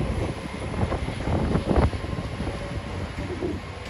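Wind rushes and buffets steadily across a microphone on an open railway station platform at Exeter St Davids on a grey, mild afternoon, a loud continuous roar with gusty swells.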